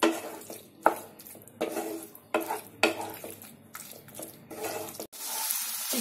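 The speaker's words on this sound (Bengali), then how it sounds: "আমি চিকেন গুলো এর মধ্যে দিয়ে দিচ্ছি। ভালো করে মিক্স করে নেবো।" A spoon scrapes and stirs chicken into cooked masala in a pan in repeated rhythmic strokes, close and moderately loud, with a soft sizzle underneath.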